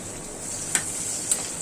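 Onions frying in soybean and mustard oil, a steady close sizzle with two brief stirring clinks.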